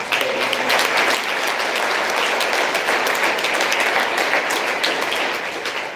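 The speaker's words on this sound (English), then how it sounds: "So please give him a round of applause." Loud, sustained crowd applause at a mayoral event, many hands clapping densely and evenly, tapering slightly toward the end.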